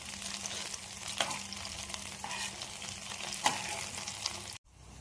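Ivy gourd pakoras fry in hot oil in a pan, a steady close crackling sizzle with occasional louder pops, cutting off abruptly near the end.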